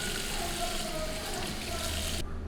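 Running tap water rinses makeup brushes in a sink, a steady broadband rush that holds for about two seconds before cutting off abruptly, leaving a faint low hum.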